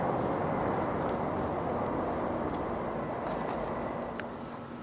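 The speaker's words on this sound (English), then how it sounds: "Got some helicopters doing some training in the area around the house today" Military training helicopters passing over a house, a steady broad rumbling drone that fills the background and fades slightly toward the end, with no talking.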